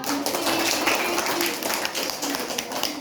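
Classmates clap for a student group presenting in a university speaking-and-listening course, a dense, steady patter of many hands filling the room for the full stretch, with faint voices underneath.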